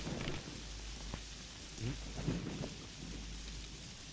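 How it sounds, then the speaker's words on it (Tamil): Heavy rain falls steadily, broken by a few low rumbles of thunder. A continuous wash of rain fills the scene, with no voices. "மழை இப்படி பெஞ்சிட்டு இருக்குதே."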